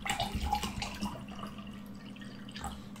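Water from Polanica is poured in quiet trickles and scattered drips, soft and close, with small splashes fading in and out and no voices.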